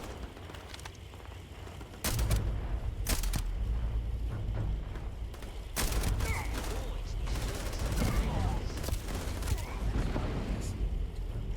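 A companion in a modded Shattered Space game fires a weapon, heard as sharp gunshot bursts and sustained rapid fire over a rumbling battle backdrop, with a person talking throughout.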